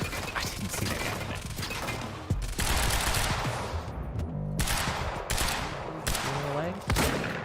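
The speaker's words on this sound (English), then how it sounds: "That is a shotgun." Shotgun blasts in the video game Quantum Break, loud repeated booming shots spread over several seconds, mixed with other gunfire and mechanical clatter in a busy firefight.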